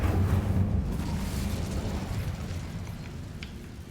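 Fiery Incendio spell blast in the Hogwarts Legacy video game: a deep whooshing burst that swells at once and then rumbles and crackles as it slowly fades.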